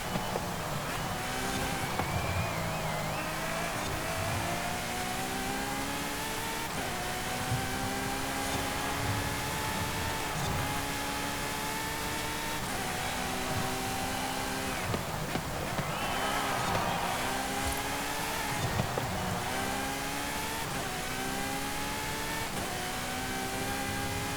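A Ferrari FXX-K Evo race car engine in the video game Forza Horizon 5 screams at high pitch, rising through the revs and dropping at each gear shift, over and over, loud and continuous.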